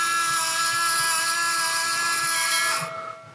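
Small electric winch motor on a JJRC C8815 Willy's Jeep 1/10 scale RC car, a steady high whine running close and alone for nearly three seconds before cutting off abruptly.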